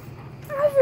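A dog playing fetch outdoors at night lets out one short, high, rising whimper close by, after a quiet stretch of low background noise.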